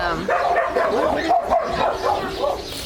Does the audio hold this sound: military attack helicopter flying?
no